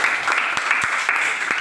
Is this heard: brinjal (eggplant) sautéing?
no